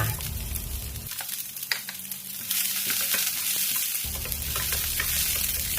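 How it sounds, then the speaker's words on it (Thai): Garlic, then onion, stir-frying in oil in a pan for stir-fried tofu. A bright, close crackling sizzle with frequent stirring clicks runs throughout, dipping for a moment before returning louder, with no voices. "จากนั้นเราก็ใส่กระเทียมลงผัดให้หอมเลยนะคะ เสร็จแล้วเราก็จะใส่หอมใหญ่ลงผัดค่ะ"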